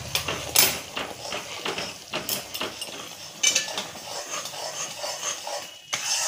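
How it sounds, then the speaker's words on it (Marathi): A metal spoon scrapes and clinks against a pan while sugar syrup is stirred into a mung dal barfi mixture, giving repeated close clatters and scrapes in an uneven rhythm. "आता आपण पाक ह्याच्यात ओतून घ्यायचा आहे, आणि एकसारखा हलवत राहायचा"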